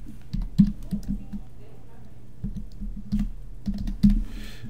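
Typing a name on a computer keyboard while drafting in SolidWorks, with scattered bursts of close key clicks separated by pauses and a low steady background hum.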